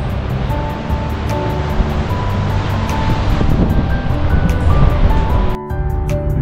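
Ocean waves at Eden Beach near Batemans Bay, a continuous broadband roar of surf with wind, loud and steady, cutting off abruptly near the end.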